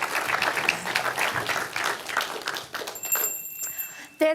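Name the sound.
audience applause for a pitch presenter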